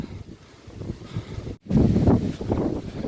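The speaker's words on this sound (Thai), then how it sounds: "ลมแรงมากครับวันนี้" Strong gusting wind buffets the microphone on a mountain stairway on a cold day, a steady low roar that drops out briefly and then returns louder and rougher.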